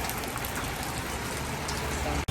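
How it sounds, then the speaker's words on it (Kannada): Steady rain falls at a Sunday bazaar, a dense, even hiss that fills the whole short stretch with no break until it cuts off at the very end. "ಮಳೆ ಬರ್ತಾ ಇದೆ"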